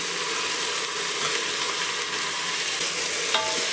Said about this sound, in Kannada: ಚೆನ್ನಾಗಿ ಟೊಮೊಟೊ ಫ್ರೈ ಆಗಬೇಕು, ಮೆತ್ತಗಾಗೋ ತನಕ ಫ್ರೈ ಮಾಡ್ಕೋಬೇಕು.